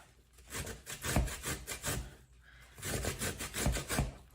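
A whole cucumber is grated in a kitchen, producing quiet, rapid, rhythmic rasping strokes in two bursts with a brief pause between them.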